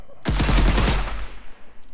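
Automatic pistol fire in the FPS Game Starter Kit shooter game: a loud, rapid burst of about eight shots in quick succession, followed by a decaying echoing tail.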